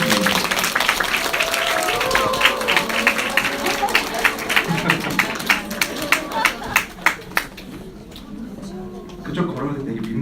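An audience at a makeup class claps to welcome a model onto the stage, with dense applause that thins into scattered individual claps before fading out, while voices murmur underneath.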